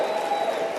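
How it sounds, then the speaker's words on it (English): Audience applause at a motivational speaking event, a brief dense wash of clapping from a crowd, steady and fairly loud throughout. "Give yourselves a round of applause."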